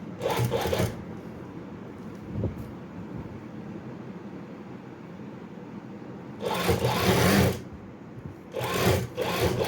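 A sewing machine stitches a kurta in short loud bursts of rapid needle hammering, three runs of a second or so separated by quieter pauses with small handling sounds.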